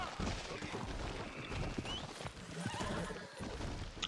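Horse neighing with clip-clop hooves in a video game, the whinny and hoof beats sounding over a dense, busy game mix, with faint scattered gunfire-like bursts in the background.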